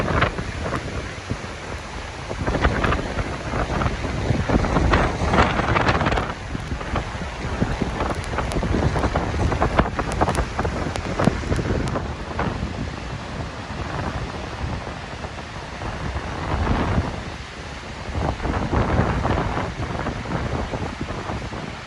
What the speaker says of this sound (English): I'm standing right at the spray zone of the Grand Cascade